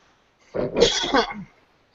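A single rough cough, close and fairly loud, lasting about a second and surrounded by silence.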